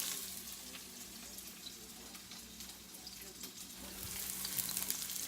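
Leftover chicken skewers fry in a pan with garlic and onions, a low, even sizzle and crackle with occasional faint stirring clicks, heard close but quietly and rising slightly toward the end.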